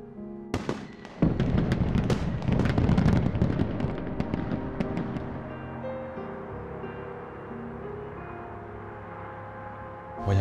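Fireworks go off in a quick cluster of sharp cracks and pops, then the bursts thin out into a fading, ringing decay that lingers until a final thump.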